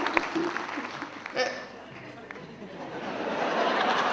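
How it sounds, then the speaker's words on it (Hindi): An audience at a Hindi kavi sammelan in Jaipur applauds during a poetess's recital, a broad crowd clapping that swells and fades with murmured chatter underneath. "अगर सुने तो पूरी तालियों का समर्थन करें।"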